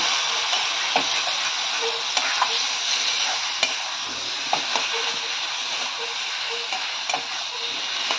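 Prawns and taro leaves fry in a pan, with a constant close sizzle and repeated scraping, tapping strokes of a spatula stirring them at an uneven rhythm, and no speech.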